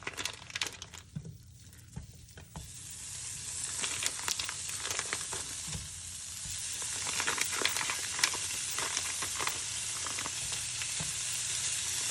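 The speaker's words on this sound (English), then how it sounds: "Alrighty, guys, our pan is heated up now. We're gonna go ahead and get our ground beef in here." Two pounds of ground beef dropped into a heated pan for cheese dip, a loud sizzle that builds after a quiet start and keeps crackling steadily, with occasional stirring scrapes.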